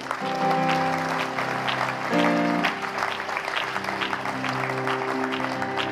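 Church congregation cheering and clapping during a sermon, a dense sustained burst of applause with whoops and voices mixed in, fairly loud and close.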